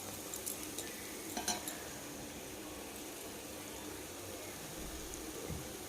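Beetroot fries in a pan with fresh coconut, green chillies, onions, coriander powder and cumin powder. A quiet sizzle runs under intermittent stirring scrapes and light clinks of a utensil.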